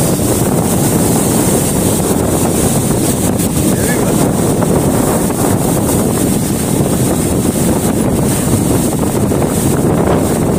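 Strong wind blowing through a stand of many trees, a loud, constant roar and buffeting rush close to the microphone for the whole stretch, with no clear speech above it.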